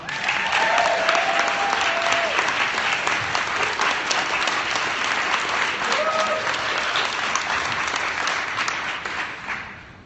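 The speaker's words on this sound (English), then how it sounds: "So give a big round of applause to Trisha Wilkins." Sustained, loud applause from a live audience greeting a speaker as she is introduced, steady clapping with a few faint voices underneath, fading slightly at the end.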